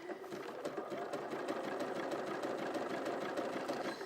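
A Bernina 475 QE sewing machine stitches steadily in a fast, even mechanical patter, close and fairly quiet, with no voices.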